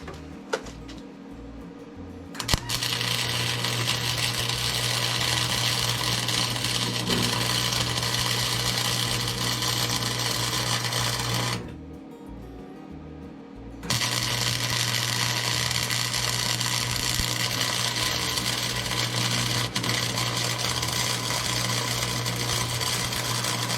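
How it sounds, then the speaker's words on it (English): Welding beads laid onto a worn steel snow plow shoe: a steady, loud crackling arc hum running continuously for about ten seconds, a short pause, then resuming for another long steady run. "Maybe a couple of beads right on this side."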